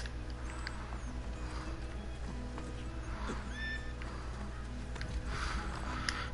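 Horse hooves clip-clop in the video game Assassin's Creed 2, faint and steady beneath a constant low game hum and scattered ambient effects.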